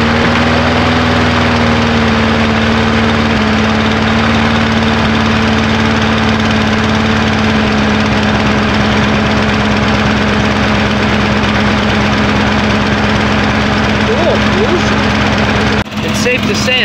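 A modified Briggs small engine running through its warm-up, holding a steady, droning idle with a throbbing low hum for a long stretch before it cuts off abruptly near the end.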